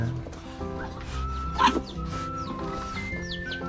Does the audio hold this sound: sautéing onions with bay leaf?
no